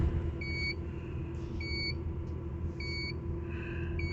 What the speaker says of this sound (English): We got an alarm again.